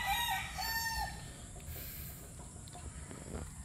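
A Boston Black brood stag rooster crows once at the start, a loud close cock-a-doodle-doo lasting about a second, followed by quieter outdoor farmyard background with no talking.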